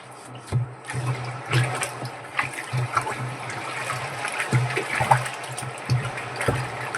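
Potassium hydroxide dissolving and heating up in water on a farm gives a steady fizzing, crackling hiss with scattered sharp pops and a low hum beneath, moderately close throughout.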